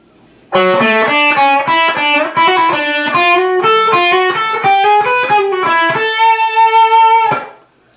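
A distorted electric guitar plays a quick arpeggiated run of picked notes, ending on a sustained ringing chord that fades out.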